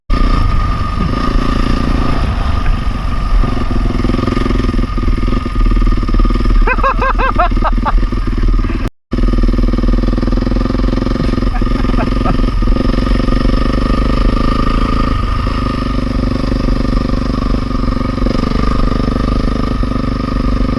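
A Honda CRF450R dirt bike roars continuously at full throttle, loud and close, the engine holding a steady high-revving drone throughout with only a brief dropout partway in.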